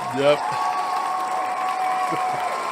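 A studio crowd at a podcast anniversary taping gives a standing ovation, with steady applause continuing beneath brief voices.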